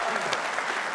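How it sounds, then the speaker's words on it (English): Audience applause at a live music event, a brief burst of steady clapping close by with no break. "So I think a big round of applause for"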